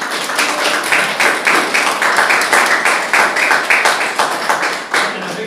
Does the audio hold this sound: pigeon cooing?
no